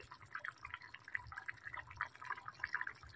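Mustard hilsa gravy, already thickened, bubbles in a pan with soft, steady blips and pops, quiet and close, with no voices.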